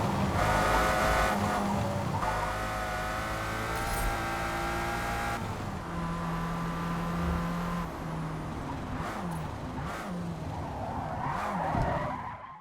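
Race car engines roar steadily in a racing video game benchmark, with sustained engine drones shifting pitch and tyre skids throughout, loud and continuous with no talk.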